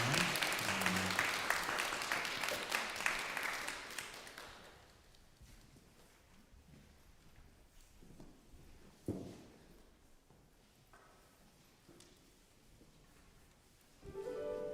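A congregation at a Sunday church service applauds. Loud clapping in the first few seconds fades into a quiet room with scattered taps and shuffles, and a short burst of sound follows near the end.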